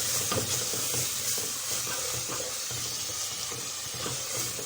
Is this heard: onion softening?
yes